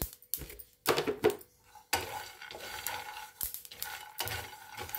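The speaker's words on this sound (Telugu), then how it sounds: "నువ్వులు చేదు రాకుండా ఉండటానికి కడిగి వేసాను. వేయించుకున్నాము. దీంట్లో కొంచెం జీలకర్ర కూడా వేస్తున్నానండి." Sesame seeds and cumin being dry-roasted in a pan, heard as intermittent clattering scrapes and rattles of a spoon stirring against the pan, with short gaps between bursts.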